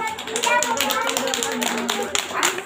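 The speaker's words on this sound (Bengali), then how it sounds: "সবাই হাততালি দাও" Several people clap together in quick, uneven bursts for a children's bird-toy craft, close and lively, with a voice mixed in.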